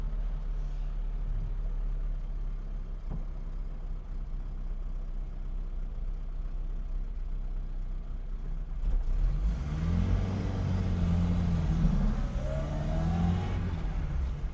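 An Austin A30 pulling away on a hill start: a steady low idle gives way to a louder engine revving up with rising pitch sweeps as it accelerates hard, heard alone and fairly close.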